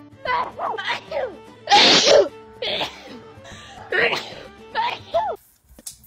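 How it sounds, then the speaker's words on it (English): A person talks, then lets out one loud, explosive sneeze, with more talking before and after it. "Oh shit, I have to sneeze."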